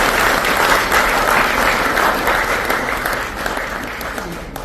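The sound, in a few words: loud audience applause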